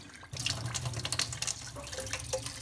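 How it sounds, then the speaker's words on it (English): A little electric pump pushes water out into a sink: a steady splashing, trickling pour starts abruptly and runs on, close by, with small drips and gurgles. "and the water comes out. Little electric pump."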